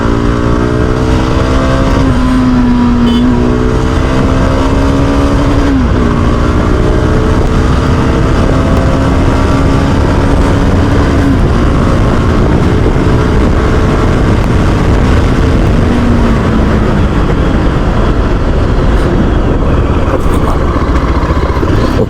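A Yezdi Adventure motorcycle ridden at full throttle toward its top speed of about 120 km/h, the engine droning loud and rising through gear changes under heavy wind roar, steady and close for the whole stretch.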